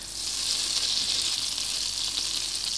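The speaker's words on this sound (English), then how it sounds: "I'm just gonna cook the butter until the foaming that it does simmers down" Unsalted butter foaming and sizzling in a pan over medium-low heat, with a steady, bright crackling hiss that stays close and even throughout, with no voice.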